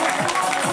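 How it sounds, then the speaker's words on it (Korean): Applause and crowd noise at a company autumn sports day, a broad sustained wash of clapping at steady loudness filling the whole moment. "박수 한번 주시기 바랍니다."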